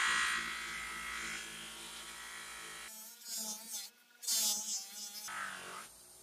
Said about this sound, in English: Got some polish on here called White Rouge on a loose flappy wheel